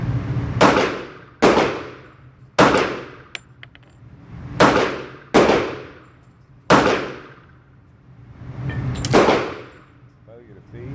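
Bul Armory SAS II Tac Commander stainless steel .45 ACP pistol firing seven loud, sharp shots at an outdoor range, each crack followed by a fading ring, spaced irregularly about a second apart.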